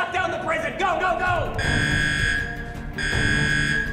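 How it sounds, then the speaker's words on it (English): A prison alarm in a comedy skit sounds as a loud, steady electronic buzzing tone in two long blasts, following a stretch of shouting and yelling voices. "Simmons, sound the alarms"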